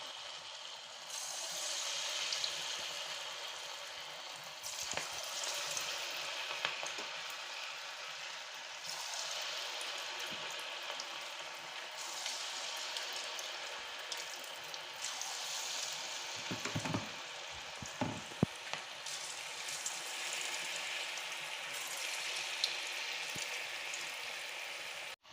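Ragi flour pakoda batter fries in hot oil, a steady soft bubbling sizzle that carries on for a long stretch, fairly faint and even, with occasional small clicks and knocks from the pan.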